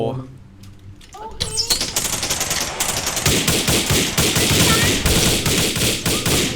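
Rapid, dense gunfire bursts crackle continuously at close range, growing louder and busier after the first second, with voices talking underneath the shooting.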